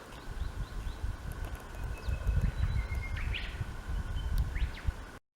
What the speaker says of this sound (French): Le matin comme ça, il y a beaucoup d'oiseaux qui chantent.